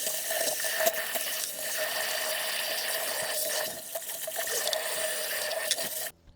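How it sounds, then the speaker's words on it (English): A garden hose sprays a steady, loud hiss of water over a Pentair Clean & Clear pool filter cartridge during cleaning, running unbroken and close until it cuts off abruptly near the end. "And then we'll just grab our hose."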